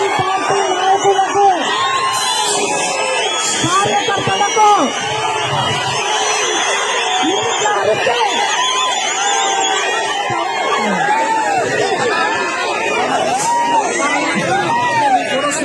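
A large crowd at an outdoor political rally for the Telugu Desam and Jana Sena parties, shouting, whooping and cheering in a loud, dense roar that keeps going for about fifteen seconds, with voices calling out through the din.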